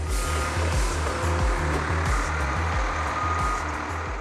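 Inside a Volvo FH truck factory, a forklift truck sounds a steady string of evenly spaced reversing beeps, close and loud over a continuous industrial hum.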